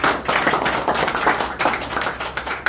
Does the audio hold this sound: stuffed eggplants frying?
no